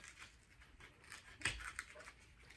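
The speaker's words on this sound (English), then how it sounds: "you could take your X-Acto knife, you know, especially if you're working with a bigger piece here, and cut out your center" An X-Acto knife cuts the centre out of a glittery craft piece, giving quiet scratchy slicing strokes with one sharper snap, close up and faint.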